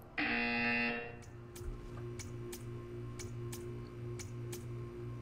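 A loud electronic buzzer from the Portal 2 video game sounds in one long tone, followed by a quiet, steady ticking over a low hum.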